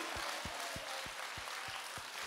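Rhythmic applause at a Korean prayer meeting, with a crowd clapping in a steady, even beat about three claps per second over a noisy hall ambience.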